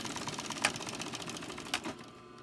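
A sewing machine with a walking foot top-stitches a wool blanket, a rapid even mechanical chatter with a couple of louder clunks, close and alone.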